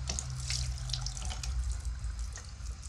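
A kitchen tap runs steadily throughout, with a continuous close splashing hiss of water into a sink and a low hum beneath, no voices.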